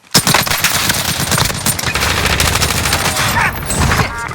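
Sustained rapid automatic gunfire in the video game Warzone, loud and dense, with continuous overlapping bursts and shots running almost unbroken for several seconds.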